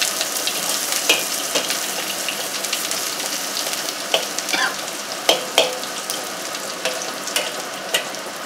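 Onion frying in a pan while making carbonara spaghetti with bacon: a steady close hiss and sizzle with scattered crackles and light clinks of stirring throughout, no talking.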